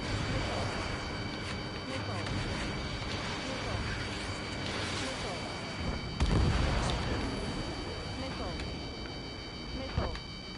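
Aircraft guns firing during a head-on merge in a flight combat video game, heard as dense, continuous loud rumble and bursts with a sharper blast near six seconds, while a voice talks over the action.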